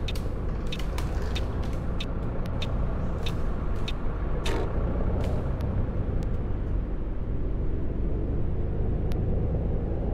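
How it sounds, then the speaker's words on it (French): A coach bus brakes hard in Fernbus Simulator, a steady loud rumble of engine and road with hissing air-brake bursts and clicks throughout, no voices. "Ça freine très très bien par contre un car, hein."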